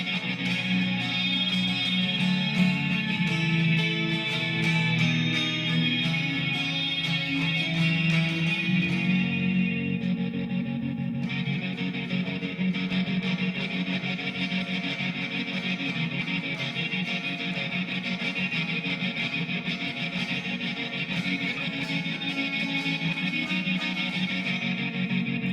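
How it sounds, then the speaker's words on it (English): An electric guitar plays a song through distortion and tremolo, a thick, pulsing, shimmering sustained tone that briefly thins around the middle before resuming, with no talk. "we're going to put the distortion and the tremolo back on"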